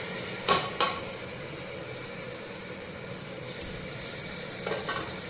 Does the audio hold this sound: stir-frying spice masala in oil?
yes